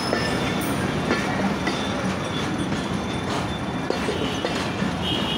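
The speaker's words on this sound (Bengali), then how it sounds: "এই মোড় এটি চাঁপাইনবাবগঞ্জের দিক থেকে এই ট্রেনটি চলে আসছে, এসে রাজশাহীতে পৌঁছাবে" Train rolling past a road junction in Rajshahi, coming from the Chapainawabganj direction, with steady loud wheel rumble and clickety-clack on the rails throughout, no talking.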